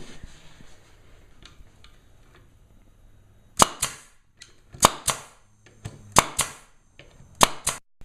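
Pneumatic nail gun firing nails into wood, a series of sharp, loud cracks spaced roughly a second apart, some in quick pairs, over a low background hiss from the compressor setup.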